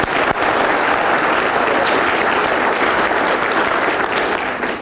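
A school auditorium audience at a student speech contest applauds steadily and loudly throughout, a dense, sustained wash of many hands clapping with no speech over it.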